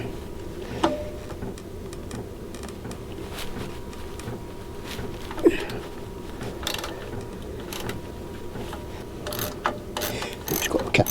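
A ratchet slackening the exhaust clamp on a Kawasaki GTR 1000 motorcycle, giving repeated close mechanical clicks in short bursts over a steady low background hum.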